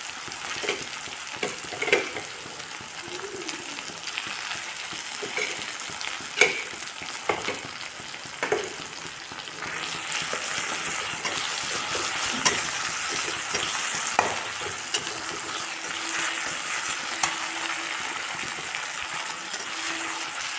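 A paste of green chili, ginger and cumin fries steadily in a pan, a continuous bright sizzle with occasional stirring scrapes and pops, close and fairly loud, no voices.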